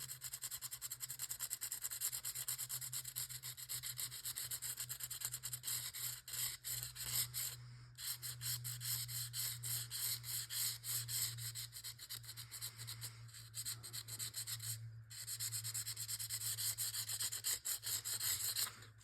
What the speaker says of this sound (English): So what we're going to do is take a little piece of sandpaper.